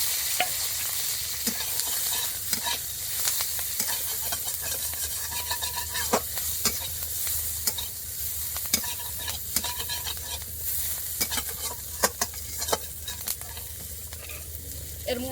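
Crushed garlic and slit green chilies fry in a wok, a steady close sizzle with frequent scraping stir clicks throughout, no voices.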